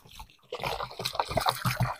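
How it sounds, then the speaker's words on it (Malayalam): Water poured onto the soil around a newly planted rambutan sapling, a soft trickling and splashing that starts about halfway through and continues steadily, close by. "ഇനി നമുക്ക് നന്നായിട്ട് നനച്ചുകൊടുക്കാം."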